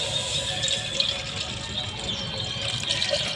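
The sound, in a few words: cow's milk being poured into a bowl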